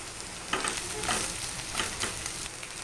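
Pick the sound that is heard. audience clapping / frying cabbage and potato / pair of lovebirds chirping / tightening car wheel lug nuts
frying cabbage and potato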